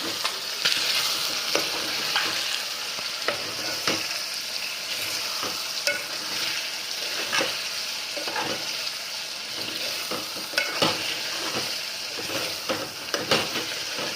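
Chicken gizzard pieces fry in a pan with a steady, dense sizzle, broken by intermittent clacks of stirring against the metal. The sound is close and continuous, with no voices.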